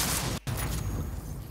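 A dense burst of gunfire in Cyberpunk 2077 rattles loud and close, with rapid overlapping shots and one brief gap in the barrage.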